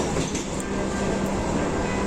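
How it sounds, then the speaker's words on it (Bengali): A train pulling into Dum Dum, Kolkata, rumbles along steadily, its constant low roar and faint rattling filling the space with no pauses. "এই যে ট্রেন চলছে, দেখো ট্রেন ছেড়ে দিয়েছে"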